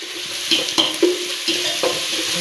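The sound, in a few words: frying curry leaves and dried chillies for lemon pickle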